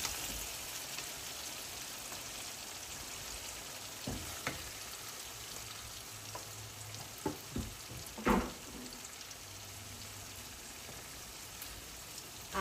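Cut taro pieces frying in spices in a pan give a steady close sizzle, broken by a few sharp stirring knocks and clinks. No one speaks.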